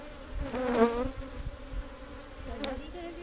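Bees give a wavering, droning buzz up close, swelling and fading over a few seconds, with a brief higher buzz near the end.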